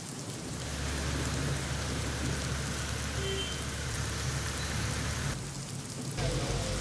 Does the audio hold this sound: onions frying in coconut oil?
no